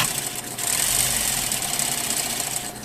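A sewing machine stitches a zipper seam in a lined skirt, running steadily from the bottom with a continuous close mechanical whir and rapid needle chatter throughout.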